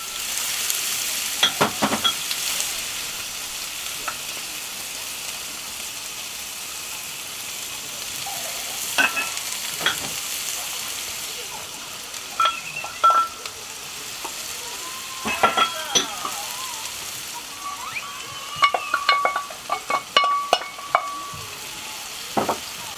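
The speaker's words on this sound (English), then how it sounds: "Give that a little bit of a stir as well." Vegetables sautéing in melted butter, a steady close sizzle broken by occasional scrapes and knocks as a utensil stirs them in the pan.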